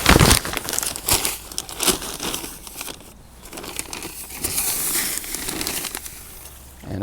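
A large plastic bag of perlite being handled and rummaged, producing loud, close crinkling and rustling that swells and fades across the whole stretch, with no speech heard.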